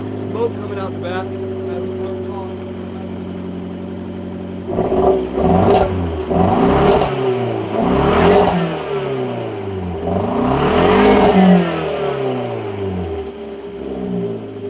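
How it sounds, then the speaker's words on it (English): A Dodge Dart engine idles, then revs repeatedly in rising surges, loud and close, with rough popping backfire bursts in between. "Got some backfire like crazy"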